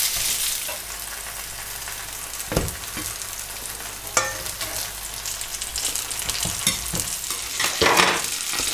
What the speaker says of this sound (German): Und lassen das jetzt auch nochmal 3 Minuten anbraten.